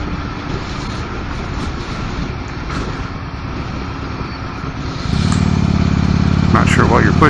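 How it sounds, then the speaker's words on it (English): A motorcycle ridden on the commute to work, its engine droning steadily under wind noise, then growing louder and rougher as the rider accelerates near the end. "so I ride this bike to work almost every day"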